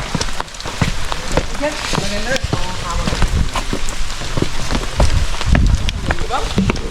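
Steady rain patters on surfaces close by at Nildiya Pokuna in Sri Lanka, with scattered heavier drops and voices talking underneath.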